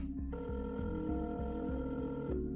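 A telephone rings after a number is dialed, a sound effect with a steady electronic tone held for about two seconds over a pulsing rhythmic low buzz.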